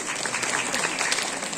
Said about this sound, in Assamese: তাইৰ বাবে এটা হাত চাপৰি।